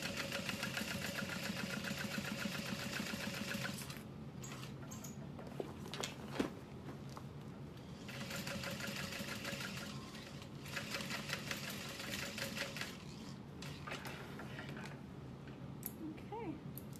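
A sewing machine runs quietly through fabric for a bucket bag, its soft rapid stitching coming in stretches with brief pauses and small handling clicks, faint and nearby.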